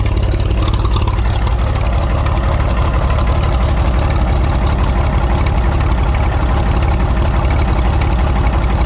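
A bulldozer engine running on gasoline idles steadily up close, a loud continuous low rumble with rapid chugging pulses and no voices.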